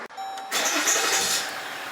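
A Jeep engine cranks briefly and catches during an 8-speed automatic transmission fluid fill, a short starter whir followed by a steady, fairly loud idle roar close by.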